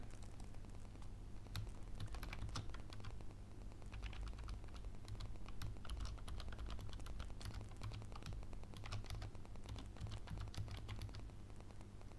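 Rapid, steady typing on a computer keyboard while entering company details into a form, with dense, continuous key clicks throughout and no talking.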